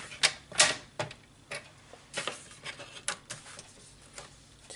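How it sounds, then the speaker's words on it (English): A 12 by 12 inch paper sheet is trimmed down to 10 by 10 with a cutter, giving a run of sharp, close clicks and slicing strokes in an uneven rhythm, fairly quiet and with no talking. "we're going to cut this down to 10 by 10."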